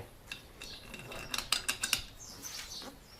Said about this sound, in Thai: ขันแรกเลยก็ใช้ น็อตตัวนี้นะฮะใส่เข้าไป